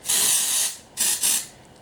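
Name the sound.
spraying Morning After Dust aerosol from Technicart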